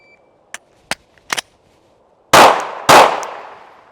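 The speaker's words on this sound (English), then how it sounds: "on signal, attempt to fire, remedy the malfunction, and fire 2 rounds" A Baby Glock pistol fires two loud close shots about half a second apart after a malfunction is cleared, each with a ringing tail, preceded by several small mechanical clicks and clacks of handling the gun.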